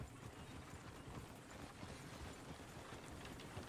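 Horses' hooves clip-clop faintly over a steady noisy backdrop in the video game Red Dead Redemption 2, at Horseshoe Overlook. The hoofbeats are soft and continuous.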